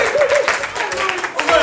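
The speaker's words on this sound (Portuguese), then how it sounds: "Palmas" Studio audience clapping for a 26-year-old contestant from Loures on a Portuguese talk show, steady applause filling the short moment at close range with a brief dip near the end.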